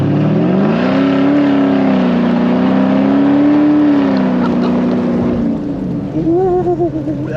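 A Porsche Cayenne S engine and exhaust drone loudly on an off-road trail, holding a steady throaty rev before easing off into wavering, lower burbles, close and unmuffled with no talking.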